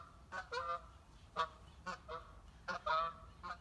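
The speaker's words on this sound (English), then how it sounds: "Those geese are noisy." Geese flying around overhead outdoors, honking in a loose, irregular series of about ten loud calls with short gaps between them, fairly close.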